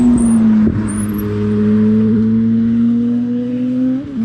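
A motorbike engine drones steadily nearby as it overtakes an electric fat bike climbing a hill, its tone holding and rising slightly before easing off.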